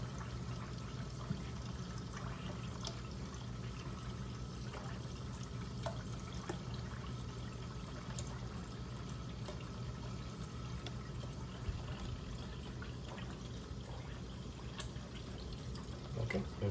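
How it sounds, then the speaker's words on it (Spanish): Cold water running steadily from a kitchen tap while preparing chickpeas for hummus, a continuous close splashing stream lasting throughout with no talk. "Vamos a dejar que salga el agua bien caliente, bien fría"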